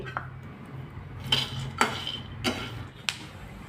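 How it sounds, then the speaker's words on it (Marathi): Peanuts dry-roasting in a pan give off sparse, sharp clinks and ticks, a handful of close, separate pops and scrapes against the metal over a quiet background. "हे बघा आता हे चटचट असे वाजू लागलेले आहे म्हणजे आपले हे शेंगदाणे असे व्यवस्थित भाजले गेले आहे"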